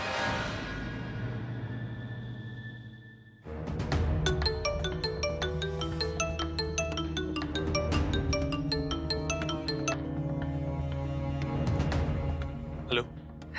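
A mobile phone ringtone plays as a steady, loud melodic tune of repeated tones, following a brief lead-in, in an indoor scene from a Hindi drama.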